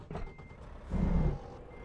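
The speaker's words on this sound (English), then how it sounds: "oh yeah, I can hear the reversing beep" A truck's reversing beeper sounds in a driving video game, with steady repeated beeps over engine rumble and a brief hiss like an air brake.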